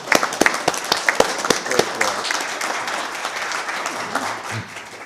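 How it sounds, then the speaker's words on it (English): Applause from a city council meeting audience for the city staff: a burst of individual claps that quickly blends into sustained clapping, then fades out. "I am going to stand and applaud every one of the staff"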